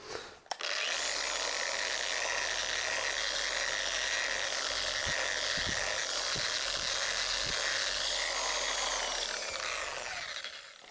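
Polishing wheel spinning against a surface coated with polishing paste, a steady broadband whir holding near and loud for the whole stretch, with a few faint low thumps partway through and no talking.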